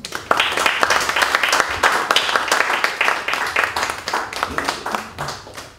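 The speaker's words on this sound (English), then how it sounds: "let's take just 2 seconds now to give a hand of applause to all the winners for these Africa4u Awards." An audience at an awards evening claps for the winners, a sustained round of applause with some individual claps standing out and a voice heard briefly through the clapping.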